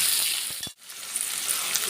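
Potatoes frying in a pan with salt, a steady close sizzle broken by a couple of quick stirring knocks and a brief dip before the hiss resumes.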